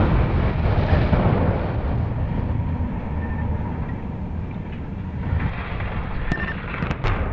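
A deep, sustained rumbling roar from the demolition of two 650-foot power plant smoke stacks at Nanticoke, heavy and continuous throughout, with a few sharp cracks near the end.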